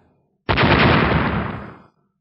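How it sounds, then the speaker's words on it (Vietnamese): A sudden loud blast erupts and roars on for over a second, slowly fading before cutting off abruptly. "phát ra tiếng nổ ầm vang"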